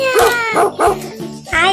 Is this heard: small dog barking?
yes